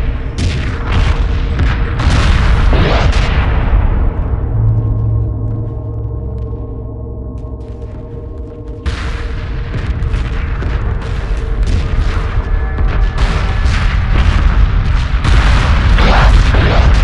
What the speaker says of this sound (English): Strike group receiving fire.